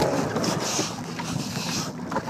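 Sailboat tacking on a lake in gusty wind with whitecaps, steady wind buffeting the microphone over water slosh and rustling, flapping sail noise close by, no voices.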